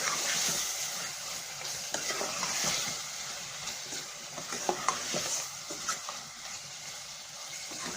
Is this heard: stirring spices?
yes